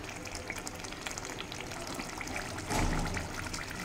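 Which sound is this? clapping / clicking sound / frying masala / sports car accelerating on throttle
frying masala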